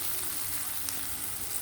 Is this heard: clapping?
no